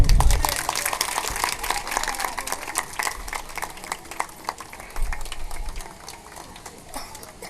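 Loud crowd applause at a Hindi religious discourse gathering in Noida, dense and sustained with scattered sharp claps, surging at the start and again near the end.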